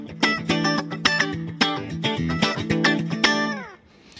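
A clean electric guitar, a Strat with a Joe Barden humbucker in out-of-phase pickup position, plays a quick strummed riff with a thin, nasal, quacky tone, ending on a ringing chord.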